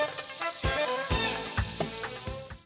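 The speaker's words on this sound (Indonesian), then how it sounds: "baru deh goreng dengan minyak yang banyak biar teksturnya crispy" Breaded tachio kunafa deep-frying in plenty of hot oil, giving a steady crackling sizzle with sharper bursts throughout, heard alone over a faint musical tone.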